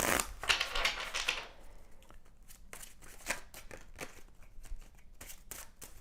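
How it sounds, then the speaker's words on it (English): A deck of tarot cards shuffled by hand in a quiet room, a dense riffling burst followed by a run of crisp separate card snaps and taps, close and clear with no talking. "All right, last shuffle."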